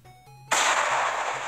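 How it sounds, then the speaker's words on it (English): In a dating-sim video game, a sudden sharp blast cuts off a quiet tone and leaves a broad, rumbling noise that decays over about a second. "Sounded like fireworks."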